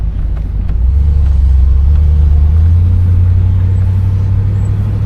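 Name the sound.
1974 Pontiac Grandville 455 engine accelerating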